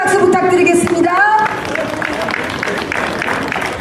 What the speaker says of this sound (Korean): 우리 김재식 우리 소리연구가에게 여러분 큰 박수 부탁드리겠습니다